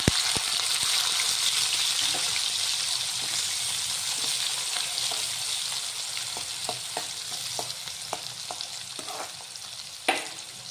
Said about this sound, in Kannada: ಈ ಥರ ಫ್ರೈ ಆದಮೇಲೆ ಹೆಚ್ಚಿಟ್ಕೊಂಡು ಈರುಳ್ಳಿ ಹಾಕ್ತಾಯಿದ್ದೀನಿ